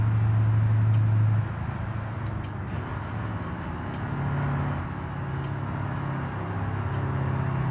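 A semi-truck engine in a driving video game drones steadily as the truck drives, a continuous low rumble that eases slightly after the first moments and holds evenly, with no talking.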